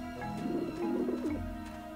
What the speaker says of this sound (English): I don't like the looks of those pigeons. Yeah, they're bone pigeons.